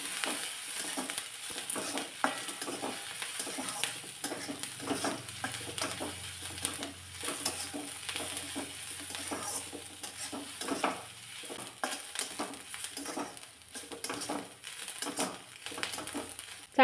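Dried red chillies roast in a pan with a soft sizzle, while a spoon stirs them in repeated scraping strokes at close range and no one speaks.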